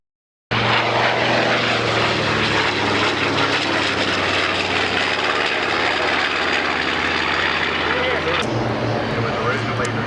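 A propeller airplane engine roars steadily and loudly at a 1984 airshow in Denton, a constant droning hum with a slight shift near the end, while an announcer talks over it.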